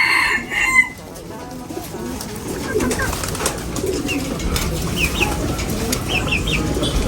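Chickens cluck and a rooster crows among other birds, close and lively, with a brief voice at the start.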